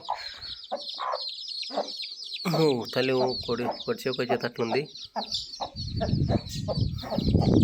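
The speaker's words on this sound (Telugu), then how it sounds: "ఇలా ఉన్నాయి చూడండి, మా కోడి పిల్లలు చాలా బాగున్నాయి" Hens cluck and chicks about 20 days old peep steadily, close by, while a person talks over them throughout.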